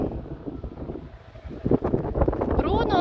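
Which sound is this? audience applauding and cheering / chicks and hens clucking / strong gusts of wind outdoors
strong gusts of wind outdoors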